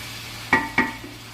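Achari chicken cooks in a pan with green chillies and spices. Two crisp metallic clanks of a spoon against the pan ring out over a faint steady sizzle, followed by a softer scrape.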